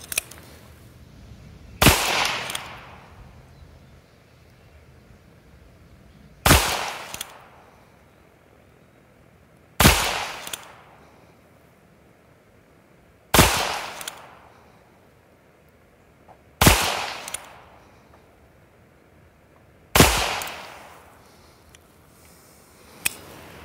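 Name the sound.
Ruger Super Wrangler revolver shots fired at targets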